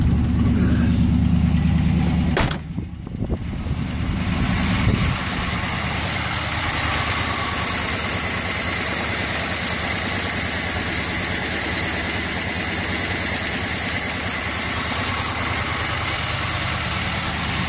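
A 1978 K5 Blazer's engine idles steadily after a -25C cold start with the choke partly open, a loud, even rumble after a brief louder burst at the start, with no talking.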